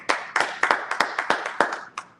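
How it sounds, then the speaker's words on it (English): A small church congregation at a Sabbath service claps in unison, about ten sharp, fairly close claps in a steady rhythm over two seconds. "Clap it up."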